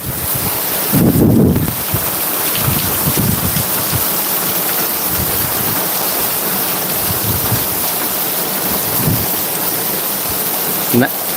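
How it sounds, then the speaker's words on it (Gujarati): Rain falls at night in a dense, even hiss that stays loud throughout, with a short gust of wind buffeting the microphone near the start. "વરસાદ બહુ સરસ મજાનો પડી રહ્યો છે"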